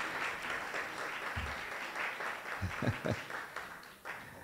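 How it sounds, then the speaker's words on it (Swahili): An audience applauds after a presentation with steady, sustained clapping that sounds somewhat distant, broken by a few soft low thumps near the end. "makofi zaidi tafadhali"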